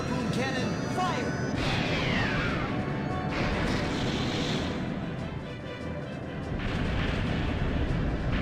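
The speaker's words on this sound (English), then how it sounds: "Harpoon cannon, fire!" A harpoon cannon booms in the Skies of Arcadia Legends video game, a loud, sustained rumbling roar that lasts several seconds with a voice talking over it.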